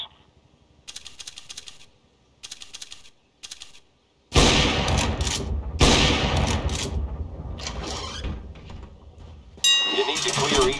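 Counter-Strike: Global Offensive gunfire comes in short, controlled bursts, a few clipped rattling volleys separated by gaps, then gives way to louder, denser, sustained shooting and impacts.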